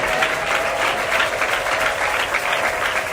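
Sustained applause from a church congregation during a prayer service, a dense, steady wash of many hands clapping, loud and close, with no pause across the whole stretch.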